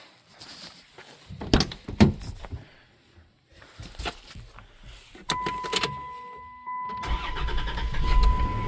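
A 1991 Dodge Grand Caravan SE with a newly fitted muffler cranks and fires up after some clicks and handling noises, then settles into a steady, fairly quiet idle close by. A voice is heard briefly beforehand.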